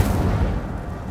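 An Incendio fire spell cast in Hogwarts Legacy, a single dense, booming burst of fiery rumble that fills the short moment loudly and close, then fades slightly without pause.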